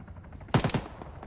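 Gunfire in the military game ArmA, a quick burst of three or four automatic shots from an uphill contact, sharp and fairly close, over quiet background.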